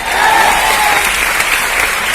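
A large audience in an indoor stadium claps steadily and loudly, a thick continuous roar of many hands with no break and no voices rising above it.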